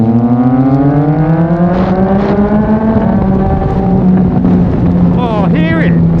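A Yamaha MT-09 motorcycle fitted with a Mivv X-M50 exhaust revs up, its engine note climbing steadily in pitch and then dropping back, loud and close, with wind buffeting the microphone.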